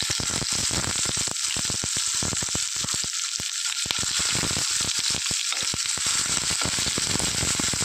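Sliced onion hisses and sizzles loudly in hot oil with ginger and garlic in a pan, a dense continuous crackle broken by quick gaps and clicks as the mixture is stirred.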